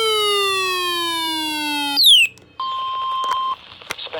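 Emergency Alert System weather alert tones for a special weather statement: a descending electronic tone with harmonics, a short shrill sweep, then a steady single-pitch alert tone and clicks, all loud and clear.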